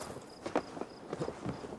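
Horse hooves clip-clop faintly in Assassin's Creed Valhalla, a short run of soft, irregular hoof falls at walking pace over quiet game ambience, with no voices.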